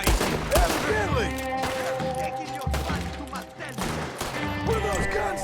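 A shootout in the video game Red Dead Redemption 2 during its epilogue, with repeated bursts of gunfire cracking over game music and voices.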